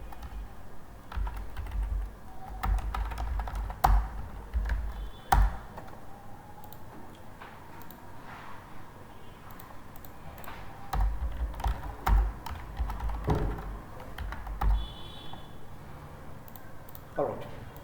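Typing on a computer keyboard during a cross-platform app development class, with scattered clicks and short bursts of keystrokes close to the microphone, underneath someone speaking intermittently.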